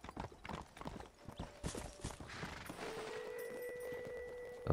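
Horse hooves clip-clop at a steady trot in the Western video game Red Dead Redemption, close and fairly loud, with a faint game tone and ambience rising toward the end.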